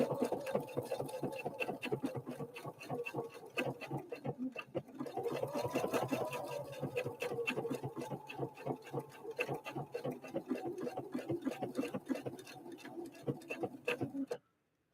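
A Husqvarna Viking Opal 650 sewing machine stitching fabric with a tri-motion feed, running in a fast, even chatter of needle strokes. It pauses briefly near the start, then runs steadily before cutting off abruptly at the end.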